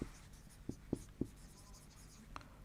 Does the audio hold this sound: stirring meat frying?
no